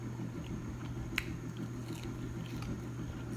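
Fried shrimp eaten with saltine crackers, a few quiet close bites and soft chewing over a steady low hum.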